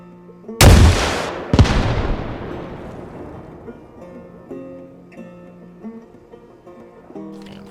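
Two loud launcher blasts from the Carl Gustaf and 153 rocket launchers in Arma Reforger, about a second apart, each a sharp boom trailing into a long rumbling decay, with faint game tones beneath.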